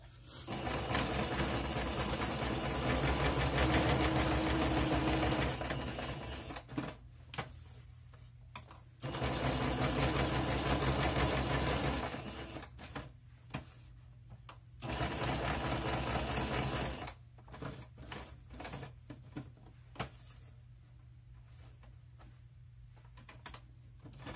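A sewing machine stitches through a junk journal page made from dollar-store Christmas supplies, running in three loud, close bursts of rapid mechanical whirring separated by quiet pauses with small clicks and handling.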